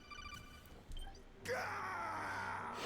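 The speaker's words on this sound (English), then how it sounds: "That's what I call a blood-curdling scream" A blood-curdling scream from the video game Metal Gear Solid 2 rises abruptly as a loud, sustained wailing cry that holds to the end, after a quieter stretch of faint electronic tones.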